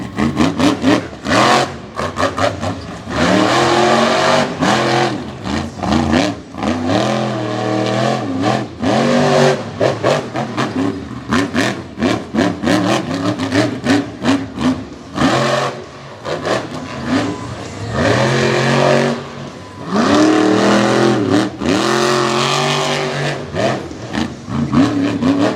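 Chevrolet monster truck at an All-Star Monster Truck Tour homecoming event on the Tennessee–Georgia state line, its engine roaring loud and close in repeated surging revs and drops, sustained throughout with no speech.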